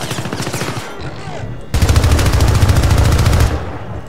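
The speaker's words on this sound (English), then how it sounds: "Where are they shooting me from?" Rapid automatic gunfire in the 2012 PC shooter Syndicate, dense bursts of loud shots that build sharply partway through and hold steady before cutting off.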